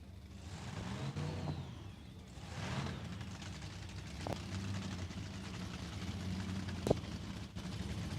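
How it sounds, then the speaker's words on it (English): A nitro funny car engine starting its warm-up at a drag strip, far off: a low, rumbling engine drone with rising revs that holds steady throughout, faint and distant, with a couple of sharp clicks nearby. "you can hear in the distance, one of the funny cars has started up their warm-up procedure after their first round maintenance"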